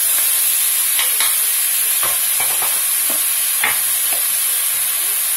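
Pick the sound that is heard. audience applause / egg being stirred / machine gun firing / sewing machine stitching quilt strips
egg being stirred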